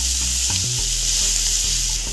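Finely chopped onions stir-fried with asafoetida in hot oil for Kolhapuri misal pav, a steady close sizzle with a spoon scraping and stirring through the pan, no talking.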